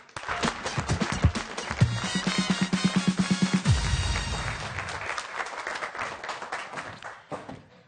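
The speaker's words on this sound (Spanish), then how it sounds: "Un aplauso, por favor." Studio audience on a television talk show applauds as a stand-up comedian is introduced, clapping mixed with a loud, rhythmic musical sting that fades out toward the end.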